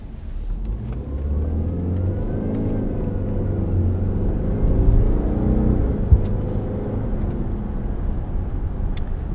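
A 2022 Subaru Ascent with a CVT accelerating, heard from inside the cabin as a steady low engine drone and road rumble that swells gradually as speed builds, with no talking over it.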